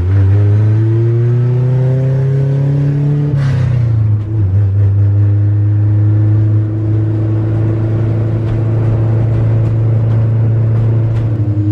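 A car engine revs hard at a drag racing night, a loud sustained roar with rising pitch that drops and settles into a steady, heavy drone close to the microphone.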